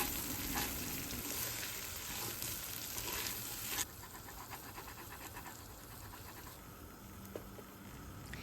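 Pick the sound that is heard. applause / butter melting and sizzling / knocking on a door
butter melting and sizzling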